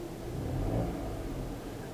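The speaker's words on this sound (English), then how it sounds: "you can see it move as I rev the engine up" Car engine revved up and held briefly while a Foxwell NT716 scan tool reads live data, a steady mid-level rumble that swells slightly near the middle and stays constant with no talking.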